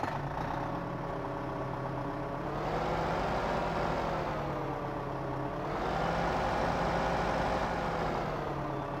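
Zetor Forterra 150 HD tractor from Farming Simulator 15, a 147-horsepower machine, its engine droning steadily with a low rumble and harmonic whine that swells twice as revs rise and fall, close and continuous with no voices.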